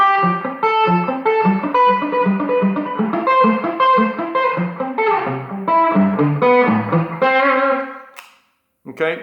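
Distorted electric guitar plays fast arpeggiated runs with tight palm-muted chugging, loud and steady with effects and a touch of reverb, stopping abruptly near the end before a brief strum returns.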